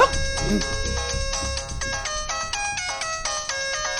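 A phone ringtone in a Telugu film scene plays a bright, repeating electronic melody of quick tones throughout, with some low voice sounds underneath.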